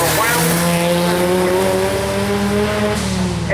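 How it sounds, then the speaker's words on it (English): An Escort 909 Turbo launches with heavy wheelspin at the Brighton Speed Trials, its loud engine note climbing steadily and staying strong and close throughout. "He completely messed up the first 64 foot, spun the wheels too much"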